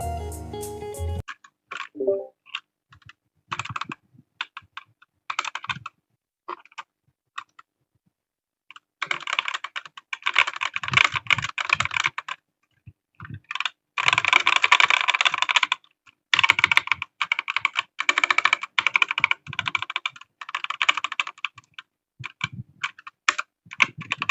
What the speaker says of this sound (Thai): งั้นเรามาฟังเสียงของคีย์บอร์ดกันเลยนะ